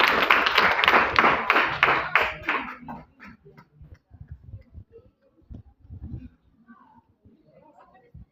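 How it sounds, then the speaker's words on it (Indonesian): A group of schoolchildren claps hands in rapid, rhythmic bursts, loud at first and then fading into scattered, faint claps. "Tepuk tangan semua."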